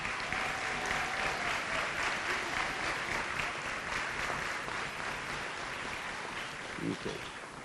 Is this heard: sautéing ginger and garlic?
no